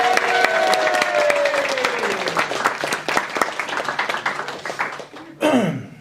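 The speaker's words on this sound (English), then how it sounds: "Could I have a round of applause for them also?" Wedding guests at Stirling Court Hotel break into a round of applause for the bridesmaids, dense steady clapping from a crowd filling the room. It carries on for several seconds under a faint hum and fades near the end.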